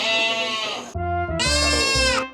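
Goats on a goat farm, from small baby goats to big mother goats, bleating loudly and close by in a few drawn-out, wavering cries with brief pauses between them.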